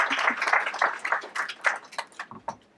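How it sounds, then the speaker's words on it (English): An audience applauds a poet at a fundraiser sit-in and anthology launch. Brisk, dense clapping rings out, then thins into scattered claps and fades away. "Please give a big round of applause for Diane."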